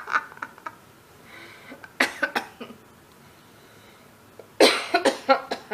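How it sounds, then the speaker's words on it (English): Several bursts of harsh coughing from allergies, each a quick cluster of rough hacks, separated by quiet gaps; close and fairly loud. "I've been coughing quite a bit today."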